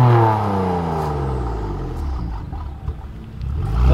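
A BMW M3 F80 with an iPE exhaust system rumbles steadily, its pitch sliding down and then swelling again as it revs, loud and close with a deep exhaust growl.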